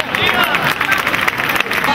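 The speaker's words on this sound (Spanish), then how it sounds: "Vamos a darle un fuerte aplauso a la murga de Miguel Ángel Merchán" Crowd applause for a carnival murga at the Málaga carnival, a loud dense wash of clapping and cheering with crowd babble mixed in throughout.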